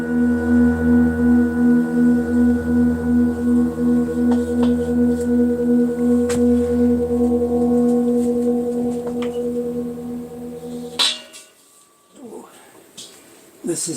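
Large contemporary singing bowl, likely made in India, sustaining a deep, steady hum with slow pulsing beats for about ten seconds, close and loud, before it is damped and a few soft handling noises follow.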